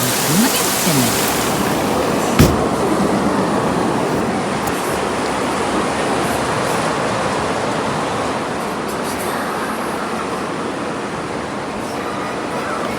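Heavy rain pours outside a small apartment in a steady, dense roar with one brief sharp knock early on, loud and unbroken throughout.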